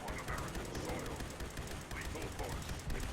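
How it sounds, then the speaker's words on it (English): Rapid Gatling laser fire in the video game Fallout 76, a dense continuous burst of crackling shots running the whole time at steady volume, with a voice talking over it. "Prepare to get crit spammed with a Gatling laser."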